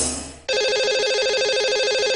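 A telephone rings as a call goes out to a radio show's lucky caller, a loud steady electronic trill that cuts in abruptly after a brief fading lead-in.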